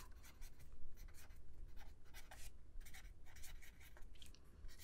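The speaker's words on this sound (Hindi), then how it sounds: "तो नेक्स्ट हम लिखेंगे कैरलस लिनेस" Pen writing on paper by hand during a biology lesson on binomial nomenclature, a close, continuous scratchy scribble in quick bursts with no voice over it.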